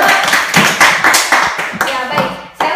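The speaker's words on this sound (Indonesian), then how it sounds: "oke, tepuk tangan." A high school class in a microteaching lesson claps hands in a quick rhythmic pattern of sharp, close claps, while a voice talks over them.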